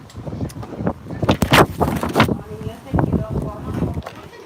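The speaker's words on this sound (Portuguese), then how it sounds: "isto é o vento deitar fora a câmara" Strong wind buffeting a camera microphone outdoors, producing irregular loud rumbling gusts and bursts while a person talks underneath.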